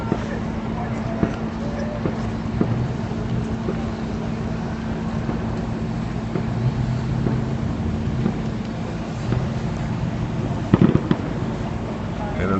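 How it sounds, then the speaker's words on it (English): Illegal firework mortars thump and pop at a distance near a burning ranch stable on Bluff Road in Montebello, faint repeated bangs under wind, engine rumble and people talking. "in the background, you hear more mortars going off"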